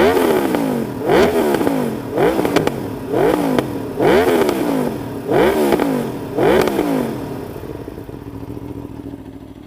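An Aprilia Tuono V4 motorcycle with aftermarket modifications starts and revs hard in a steady series of about six sharp throttle blips, each climbing and falling back. The engine sounds close and loud, then settles to a quieter idle at the end.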